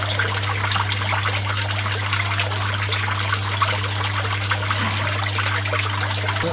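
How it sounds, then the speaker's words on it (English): Water gurgling and trickling steadily as air pushes it out of the pipe of an aquaponics grow bed at a primary school, with a constant low hum from a pump underneath and no talk. "there's a force of air pushing that water out of the bed"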